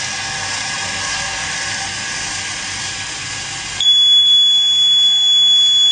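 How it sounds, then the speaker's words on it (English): A gas sensor buzzer alarm on a greenhouse robot: steady broadband hiss, then a loud, continuous high-pitched buzzer tone switches on about two-thirds of the way through and holds steady to the end. "it automatically detects and the buzzer alarm will be turned on"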